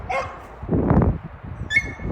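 A puppy barks during excited tug play training, giving a couple of short high yips and a louder bark near the middle, with a gruffer vocal sound between them, close to the microphone.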